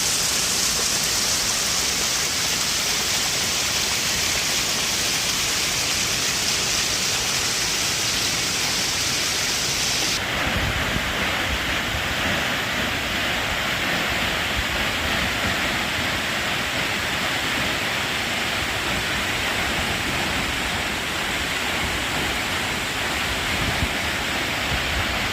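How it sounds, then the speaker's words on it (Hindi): A scenic waterfall in a mountain valley roars steadily and close, a dense continuous rush of falling water with no talk, its tone shifting slightly partway through. "इतना खूबसूरत झरना है।"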